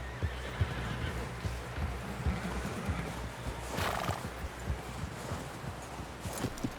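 A horse in Red Dead Redemption 2 plods with steady clip-clopping hooves close by, and a whinny cuts in midway over a low rumbling background, no speech audible.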